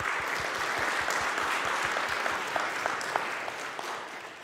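A school awards audience claps for sixth-grade honor students, with sustained applause throughout and individual claps standing out in a loose rhythm near the microphone.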